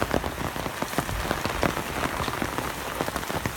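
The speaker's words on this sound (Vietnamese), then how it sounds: "đứng ngoài này mưa quá" Heavy rain pours steadily outdoors beside an abandoned fishing pond, a dense, continuous patter of drops on surfaces, close and loud with no breaks.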